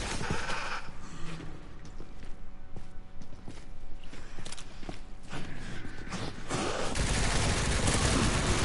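Gunfire in the video game Resident Evil Requiem, a run of sharp shots and bursts spread through the stretch over a noisy game background, fairly loud, with no talking.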